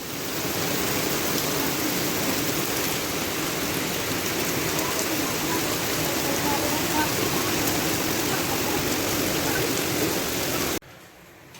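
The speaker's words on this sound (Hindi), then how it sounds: "बारिश की सूरत ऐसे कि रुक ही नहीं रही" Heavy, unrelenting rain pours down in Murree as a steady, dense wash of noise that holds for about eleven seconds before cutting off abruptly.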